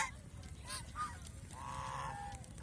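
Geese on a goose farm give several nasal honks at varying pitch over a low steady background rumble, close and moderately loud.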